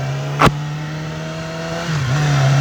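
A 2019 Yamaha R6 motorcycle engine holds a loud, steady high-pitched whine at speed, briefly dipping and then climbing again, with a short burst of wind noise near the start.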